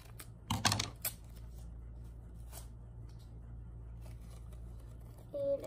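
Tape and paper being cut while making a paper squishy craft: a quick burst of crisp, close snips and crinkles at the start, one more faint click later, then a quiet stretch with a soft tonal sound at the end.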